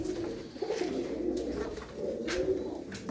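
Pigeons in a loft coo continuously, low throaty rolling calls overlapping from several birds nearby, with a few faint rustles and clicks in the background.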